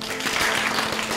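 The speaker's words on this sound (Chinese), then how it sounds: "鼓掌" A small office group applauding together at a company gathering, a short burst of steady clapping heard alone.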